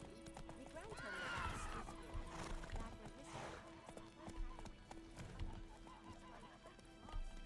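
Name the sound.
horse whinny and hooves, video game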